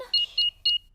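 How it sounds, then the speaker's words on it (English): A cartoon house alarm being switched on gives three short, loud, even electronic beeps in quick succession against a quiet background. "Switch the alarm back on."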